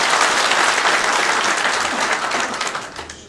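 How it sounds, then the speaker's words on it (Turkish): An assembly hall audience at a general council session breaks into loud, sustained applause, a dense wash of many hands clapping close by that tapers off slightly toward the end. "Hep beraber alkışlayalım."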